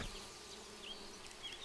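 Bees buzz softly in the video game Viewfinder, a faint continuous insect drone with a couple of brief higher chirps, and no speech.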